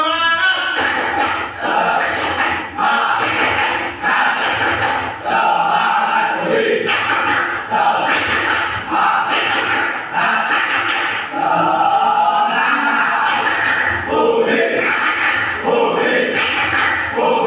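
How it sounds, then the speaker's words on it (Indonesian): A class group doing a rhythmic clapping chant (tepuk semangat) at the start of a school lesson: many voices shout in unison between loud, evenly spaced bursts of group claps, repeating steadily throughout. "Sekarang tepuk semangat dulu untuk mengawali pembelajaran kita siang"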